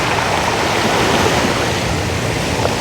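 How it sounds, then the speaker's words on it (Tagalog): Strong sea waves crash and wash against a rocky Philippine shore where fishermen set out for tuna, a loud, continuous roaring surf that fills the whole stretch with no pause. "Malakas ang alon ngayon."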